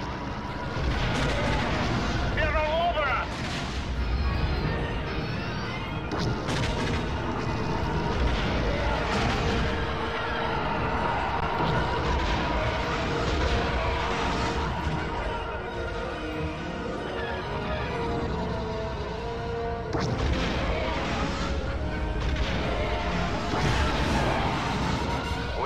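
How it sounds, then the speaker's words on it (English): Heavy weapons fire from the Star Wars Rogue Squadron II: Rogue Leader game during the Ison Corridor ambush, a dense continuous barrage of blasts and crashes layered over a loud soundtrack for the whole stretch. "The transports are drawing heavy fire."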